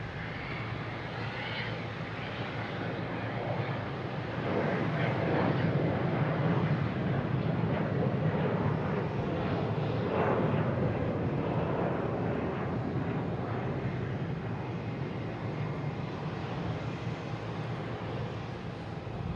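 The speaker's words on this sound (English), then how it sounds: "we should have a Delta taking off heading to Indianapolis" A Delta airliner takes off from Boston Logan on an afternoon departure, a sustained jet roar that swells in the middle and then holds steady, loud and near, with no talk.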